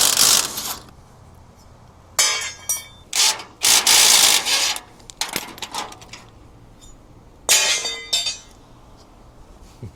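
The larger bolts are wrenched off a Harmar AL301XL hitch-mounted mobility lift. Loud metallic scraping and rubbing bursts repeat close by between quieter pauses, with no talking.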